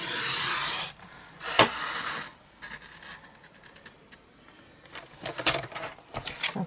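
A paper trimmer slides through cardstock while a gift box is made, producing loud, close hissing rasps followed by lighter scratches and taps as the blade and paper shift.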